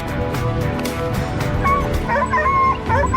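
Hunting dogs barking sharply at a forest edge during a wild boar hunt near farm fields, a loud flurry of overlapping yips and whines close by.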